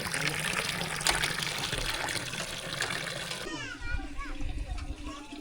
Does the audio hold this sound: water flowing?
yes